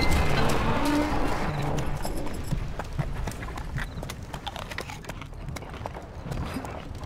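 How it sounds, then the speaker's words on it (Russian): Rapid galloping horse hoofbeats from the video game Stronghold Legends pound steadily in the foreground, a dense rumbling rhythm that fades slightly as it continues. "Пришпорьте лошадей"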